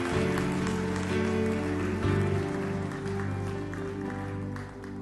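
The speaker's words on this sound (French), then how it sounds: "On les applaudit ensemble." Congregational applause during a French church service, a broad crackling wash of clapping layered under loud, sustained worship music throughout.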